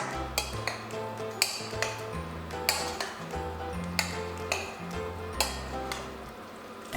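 A spoon scrapes and knocks against a pot while tomato sauce is stirred into a samp dish, giving a steady run of light metallic clinks and taps with faint scraping between them, close by and without talk.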